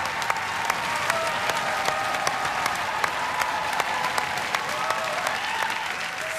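A Robot Wars studio audience applauds and cheers for the series champion robot, a dense, sustained wash of clapping from a large crowd heard at moderate distance.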